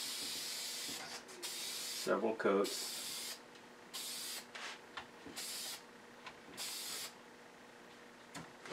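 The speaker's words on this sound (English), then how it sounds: "The finish I use is some spray lacquer" Repeated bursts of hissing spray from an aerosol can of lacquer finishing a wood-turned fish, each lasting about a second, with someone speaking briefly between them.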